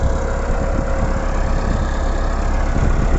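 A Massey Ferguson Millat 385 tractor engine rumbles steadily at close range, a continuous low mechanical drone with no break and no speech.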